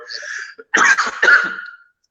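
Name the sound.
cough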